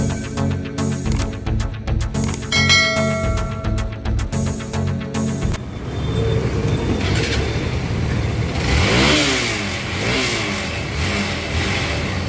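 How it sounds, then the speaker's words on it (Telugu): A Hero Xpulse 200 motorcycle with a new Champion spark plug fired up after a faulty NGK plug, running loud and close with throttle blips and rising revs, preceded by a stretch of background music. "సో మన బైక్ అయితే స్టార్ట్ అయింది"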